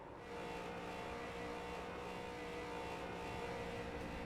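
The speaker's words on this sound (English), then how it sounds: "big celebration burnouts going on" Street stock race cars at Lime Rock Park in an iRacing simulation roar in a steady, sustained engine drone as they do celebration burnouts after the race, with no talk over it.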